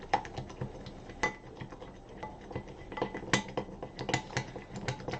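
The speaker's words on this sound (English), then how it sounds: "I want to mix it up really nice." A spoon or whisk stirring a truffle mixture in a bowl, with irregular clinks and scrapes against the sides, fairly close, steady with a few sharper knocks and no talking.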